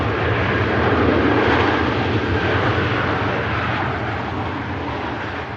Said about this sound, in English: 747-400. Operated by Martin Air, the Dutch cargo carrier.